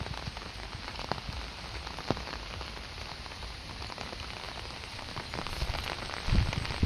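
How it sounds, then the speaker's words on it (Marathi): Heavy rain pattering steadily on surfaces outdoors, a dense continuous hiss of drops with occasional louder splashes, close and unbroken, no voices. "हे बघा पाऊस किती चालू आहे, पाऊस आणखी थांबलेला नाही, पाऊस वरतून येतच राहतो।"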